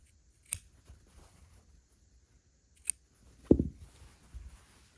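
Scissors trim the fabric overhang from a pieced quilt block, giving two crisp, isolated snips a couple of seconds apart, then a duller rustle of fabric being handled, all close and quiet.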